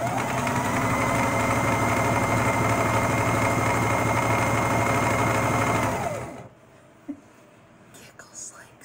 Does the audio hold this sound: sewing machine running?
yes